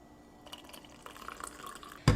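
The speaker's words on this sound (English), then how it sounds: "So now let's pour in the coffee." Coffee from a french press is poured into hot milk, giving soft, quiet trickling and dripping sounds that end in a sharp clink of a cup or glass.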